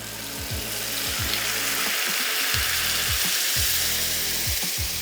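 Creamy onion paste sizzles loudly in a hot spiced-oil tempering, a steady dense hiss broken by repeated scraping stirs, close and with no voices.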